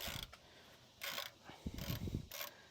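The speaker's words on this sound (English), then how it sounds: "got my 15mm socket on a socket wrench." A socket wrench with a 15mm socket ratcheting on an oil drain plug of a 2022 GMC Denali 2500HD with a 6.6L gas engine, several short quiet clicking bursts close by, with no talk.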